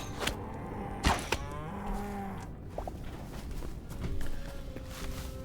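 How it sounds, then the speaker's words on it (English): A cow in the video game Hytale lets out a long, low moo close by, with footsteps and game ambience around it. "Come here, Mr. Moo Cow."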